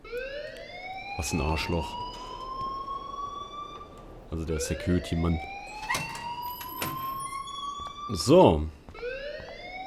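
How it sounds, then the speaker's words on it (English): Alarm ringing in the video game Life is Strange, a rising siren-like wail that repeats in long sweeps while someone talks over it with short bursts of speech. "please turn off that alarm since that's your job."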